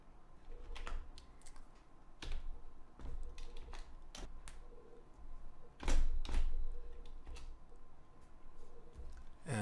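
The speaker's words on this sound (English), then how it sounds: "So right before the video code, I type in a div start tag." Fingers type HTML code on a computer keyboard in quick, uneven bursts of close key clicks, with a few louder taps standing out and no talking.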